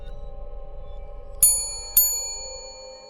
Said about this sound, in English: The toll of the desk bell rings across the small lobby